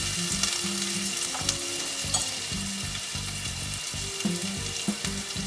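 Mustard seeds, jeera and ginger-green chilli paste frying in hot oil for an aloo veg puff filling: continuous loud sizzling and crackle, with stirring and scraping knocks from a utensil, no talk.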